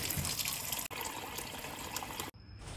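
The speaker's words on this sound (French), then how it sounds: "Dans une casserole, je mets de l'eau, du poulet." Water runs continuously into a saucepan holding chicken, a steady close pouring and splashing that is quiet overall with two brief dips.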